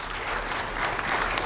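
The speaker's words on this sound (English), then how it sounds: "Please give them a big round of applause" Audience applause for volunteers at a community talk, a continuous even patter of many hands clapping at moderate distance, with no speech over it.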